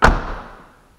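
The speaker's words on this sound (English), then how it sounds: "Shut that door." A car door on a 2005 Ford Escape slams shut once with a sharp, close thud that fades quickly, with no talking.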